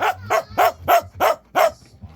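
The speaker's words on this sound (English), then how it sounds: "Why are you barking at my friends?" A dog barks six times in a quick, evenly spaced series, close and clear, with no one speaking.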